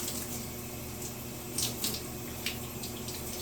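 A tap runs steadily while hair is being washed, a continuous broadband rush of water with a few brief louder splashes near the middle, close and without speech.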